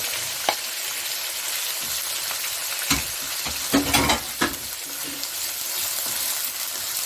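Minced meat hits a pan of frying onions, setting off a steady broadband sizzle with occasional stirring scrapes and clatters, close and fairly quiet, continuing throughout.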